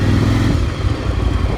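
A Yamaha XV 750 motorcycle engine, recently repaired after a misfiring cylinder, rumbling loud and close with a steady low throb as it accelerates, no voices.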